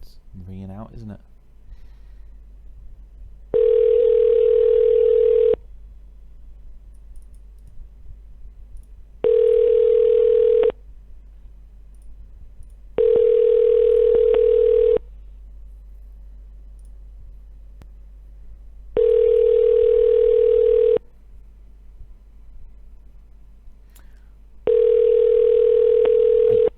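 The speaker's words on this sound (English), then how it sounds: "It's ringing out, isn't it?" A telephone call rings out unanswered on a tech support line: five evenly spaced electronic ring tones, each lasting about two seconds with long quiet gaps between them, clear and close over a faint hum.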